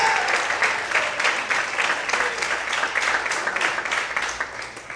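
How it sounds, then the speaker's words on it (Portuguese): Sustained applause from a large crowd at a church service, steady and loud throughout, with a faint voice barely audible beneath the clapping. "Se você puder aplaudir mais forte"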